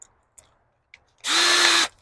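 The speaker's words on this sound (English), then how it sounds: "I wonder if I can get away with just putting a countersink" A power drill spins up loudly and close for a single steady burst of under a second, cutting a countersink in a greenhouse door, after a few faint ticks and clicks.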